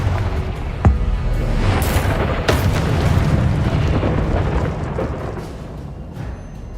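A Confringo blasting spell goes off in Hogwarts Legacy as a loud, booming explosion with a sharp initial crack, followed by further bursts and a rumbling, crackling tail that slowly fades.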